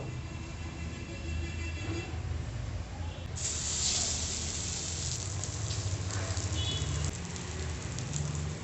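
Egg-dipped slices of bread toast fry in a hot pan, a loud steady hiss and sizzle that swells partway through and keeps going close up, with no talk.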